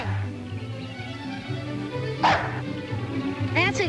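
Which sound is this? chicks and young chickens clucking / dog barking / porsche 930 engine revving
dog barking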